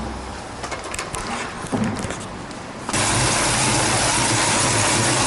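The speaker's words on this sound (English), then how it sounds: "I brought the idle up just a little bit just to get it to run" A Mustang hot rod engine catches after some uneven sputtering and then settles into a loud, steady, close idle that runs to the end, with no one talking.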